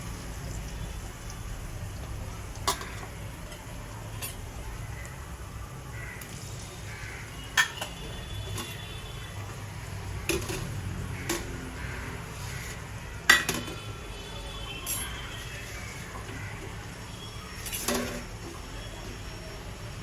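Chopped red pumpkin, raw banana, carrot, potato and tomato go onto onions in a pan for moong dal khichdi. A spatula scrapes and clinks against the pan in scattered, irregular strokes over a faint, steady frying hiss.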